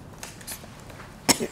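A single short cough comes near the end, faint and quick, against quiet room tone with a few soft rustles before it.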